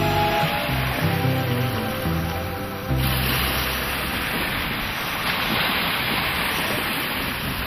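Small sea waves wash onto a beach, a continuous broad rushing surge heard close, with wind buffeting the microphone.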